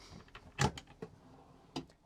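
A deep drawer in a WildAx Meteor Ford campervan slides and bumps shut, with a sharp clack at the centre and lighter knocks and rattles before and after, close by.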